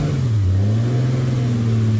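A turbocharged Nissan Pulsar engine with a brand new turbo revs steadily in the cold, a loud, close, continuous drone that rises slightly and then holds through the whole stretch.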